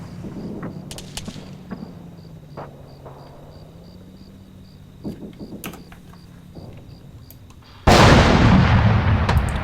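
Gunfire in Arma 3 from vehicles up on a hill, heard as scattered distant cracks and thumps over a low battlefield drone, ending in a loud, sustained burst of heavy firing.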